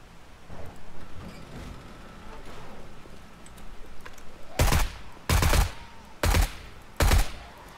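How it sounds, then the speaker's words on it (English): Four loud bursts of gunfire in quick succession in the video game 7 Days to Die, each a short broadband blast, following a stretch of quieter rumbling background noise. "that's probably from the gunfire"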